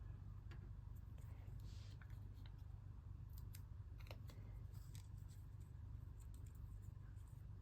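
Scissors snipping paper for an apple collage, with faint, quiet irregular cuts and rustles over a low steady background hum.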